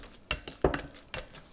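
A spoon stirs and smushes mashed bananas in a mixing bowl for banana bread, making three soft clinks and scrapes against the bowl, close and quiet, with no talk.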